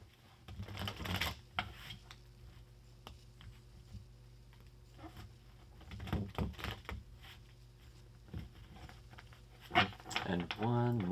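Very large tarot cards are shuffled with some difficulty, producing clustered papery flutters and taps in a few bursts separated by quiet gaps, soft and near.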